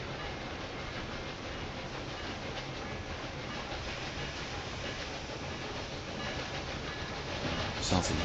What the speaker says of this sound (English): The other passenger train, the counterclockwise.